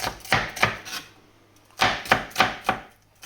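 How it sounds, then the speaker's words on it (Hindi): Onions being chopped for biryani with a knife on a board: two quick bursts of sharp cutting strokes, several crisp taps each, separated by a pause, close and clear with no talking. "इसमें आप देख सकते हैं कि मैं प्याज काट रही हूँ।"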